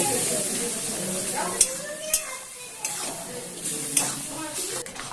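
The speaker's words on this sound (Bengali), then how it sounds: "এমন করে নাড়া দিয়ে সর্ষেটা আমি সব কচু শাকের মধ্যে মিশিয়ে দিচ্ছি।" Mustard paste stirred through taro greens in a pan, a close, soft scraping and sizzling with a few sharper spoon-against-pan clicks, heard alone.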